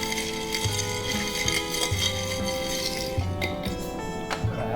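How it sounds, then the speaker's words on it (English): A spoon gives a quick stir to basil peach tea mixed with basil rum in a glass, making light repeated clinks against the glass over a faint background hum, close and without speech. "we're gonna give this a quick stir. Just bring all these ingredients together."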